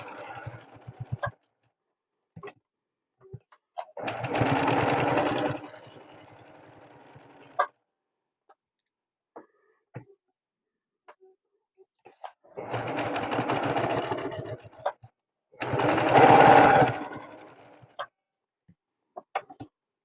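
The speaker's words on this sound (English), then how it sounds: "You just simply go through and you're going to do an edge stitch." A sewing machine edge-stitches quilt fabric for flying geese units in three close, steady runs of whirring stitches, each a few seconds long, separated by quiet gaps with small clicks and handling noises.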